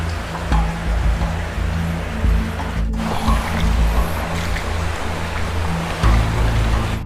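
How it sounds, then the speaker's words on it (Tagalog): Water streams and trickles through a vast, church-like cave, a steady rushing wash of sound that echoes slightly and continues without pause, with no voices present. "Kunti na lang yung tubig na dumadaloy sa loob ng kuweba"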